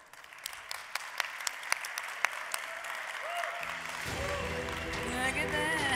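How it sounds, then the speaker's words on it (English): Audience applause for a speaker at a startup demo day in Barcelona: scattered early claps swell into sustained loud clapping from a large crowd, with music rising underneath and a voice over it. "Ladies and gentlemen, a round of applause for Gary Shainberg."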